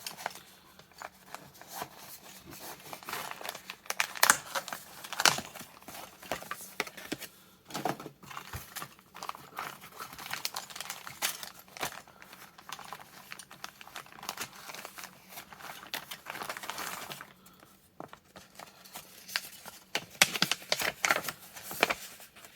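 Dapol model railway kit packaging for an Esso tank wagon is handled up close, with continuous crinkling and crumpling of plastic and card, bursts of rustling and a few sharp snaps, no talk.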